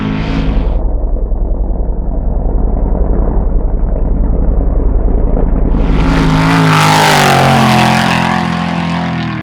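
Porsche 944 driven fast over a series of whoops in the desert of Johnson Valley, engine roaring loud and close with a pulsing low throb, then rising sharply in pitch as revs climb, no talk over it.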